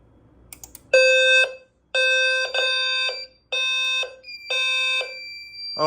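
A Notifier SFP-10UD fire alarm panel running a fire drill sounds its horn-strobe in loud, harsh electronic bursts, five long blasts with short gaps between them, close and alone, with a brief clatter before the first blast.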